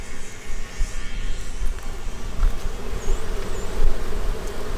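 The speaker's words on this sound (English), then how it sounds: "bees go inside, look here, bees go inside steps by steps." Honeybees buzz steadily as they enter their beehive, a close and sustained droning hum with a few faint higher whines passing over it and no voices.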